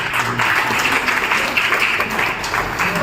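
Sustained applause from an audience at a book launch at a museum in Bhopal, a continuous, fairly loud wash of clapping hands with no break.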